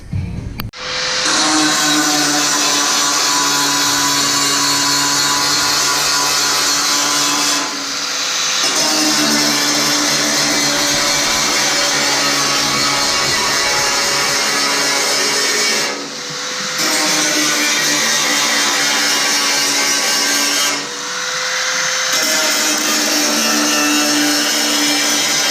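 A power tool whines loudly and steadily while cutting out a hole in a Mustang floor pan, running in long sustained bursts with short pauses between them, close and uninterrupted by talk.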